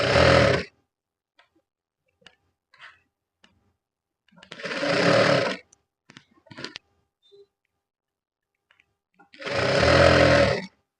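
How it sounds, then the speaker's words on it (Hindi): Sewing machine running three separate bursts while stitching the inner lining of a fish cut gown, each a loud steady whir lasting under a second, separated by quiet pauses with faint handling clicks. "इस तरीके से चारों तरफ सिलाई लगाते हुए इनर को हम अटैच कर देंगे।"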